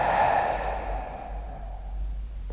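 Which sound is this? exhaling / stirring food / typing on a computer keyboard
exhaling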